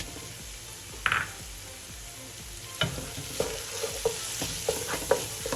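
Grated carrot and khoya stirred and fried for halwa, soft sizzle under repeated spoon scrapes and knocks on the pan, getting busier toward the end.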